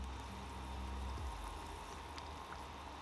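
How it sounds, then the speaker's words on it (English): Egg rolls, shrimp filled with sriracha sweet chili, fry in a pot of hot oil, giving a steady close bubbling and sizzling hiss with fine crackles and a brief low thump near the start. "now it's time to fry these egg rolls up"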